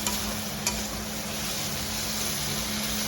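Whole spices for tempering sizzle in hot oil in a home kitchen, a steady, close frying hiss with a single faint tick partway through and no voices.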